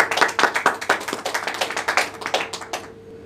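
Clapping in a quick, steady rhythm of sharp distinct claps, fairly close and clear, as if from a small group, then stopping abruptly after about three seconds.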